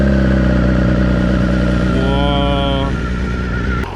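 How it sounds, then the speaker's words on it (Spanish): A 2020 BMW S 1000 RR motorcycle engine, limited to about 8000 rpm, idles in a loud, steady, buzzing drone close by. It rises briefly in a short rev, then settles and cuts off abruptly at the end. "ahorita está limitado este motor, entonces no puedes pasar de muchas revoluciones, pero vamos a ver cómo suena"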